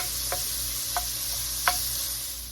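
Fatty bacon, not center cut, sizzles and browns in a pot with a steady crackling hiss, broken by three brief stirring or scraping clicks, nearby and alone without voices.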